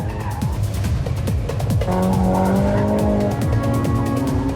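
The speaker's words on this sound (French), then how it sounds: "Conrad file à fond la caisse sur le circuit" A race car driven flat out around a circuit, engine roaring loud and steady with tires squealing and skidding through the corners, close and continuous.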